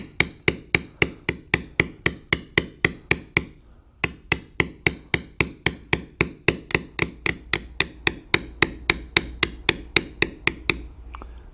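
A leather tooling stamp is struck with a mallet while it is walked along leather to carve a standing buffalo: a long, steady series of crisp, evenly spaced taps at about three or four per second, close up and alone.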